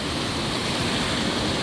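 Rushing river rapids on the River Usk, water churning over stoppers and small standing waves, heard as a loud, steady broadband roar close by with no voices.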